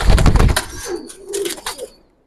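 A male pigeon held in the hand gives a few soft, low coos after a burst of rustling handling noise, the calls brief and close before fading into quiet.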